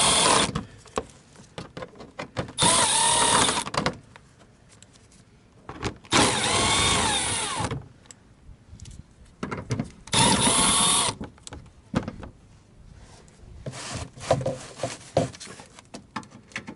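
An electric driver backs out the 10mm bolts holding the skid plate on an Infiniti G35/Nissan 350Z, giving loud, repeated whirring bursts of a few seconds each, separated by quieter clinks and handling noises.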